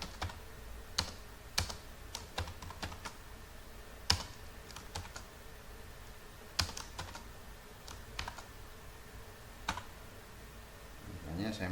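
Irregular bursts of keystrokes on a computer keyboard while Python code is edited, soft clicks in short runs separated by pauses, close and fairly quiet.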